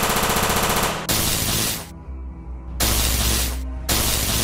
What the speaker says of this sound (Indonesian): Gawat, mereka punya senjata listrik yang sangat kuat.